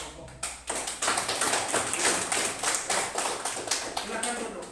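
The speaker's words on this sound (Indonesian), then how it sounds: "tepuk tangan dulu untuk kelompok" Classroom applause for a student group that has just presented, with a brisk burst of many hands clapping that starts abruptly and carries on steadily, close and fairly loud.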